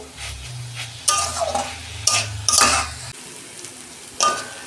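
Leafy greens frying in a pan over several seconds, with sizzling and repeated stirring scrapes of a utensil against the pan in short bursts, no voices.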